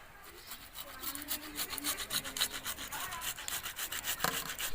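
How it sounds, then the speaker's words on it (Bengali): A tomato is rubbed against a grater in a village kitchen, giving a steady run of rhythmic rasping strokes, close and moderately loud, with no talking. "টমেটো এখানে আমি গ্রেট করে নিচ্ছি"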